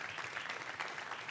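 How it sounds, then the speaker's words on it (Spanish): A church congregation at a youth service claps together in a soft, even wash of applause that stays steady and fairly quiet throughout. "Denle un fuerte aplauso a Dios."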